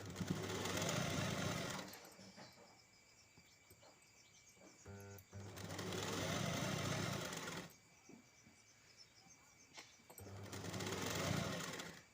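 An electric sewing machine stitches the lining of a blouse in three steady whirring runs, each about two seconds long, separated by quieter pauses. One pause holds a brief ratcheting burst.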